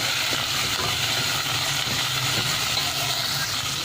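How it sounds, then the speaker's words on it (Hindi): Minced meat (keema) frying in a pan for keema aloo gives a steady, dense sizzle and hiss that holds at one level throughout, close and fairly loud, with no voices. "अब हम शामिल करेंगे ये कीमा और इसे अच्छी तरह फ्राई कर लेंगे"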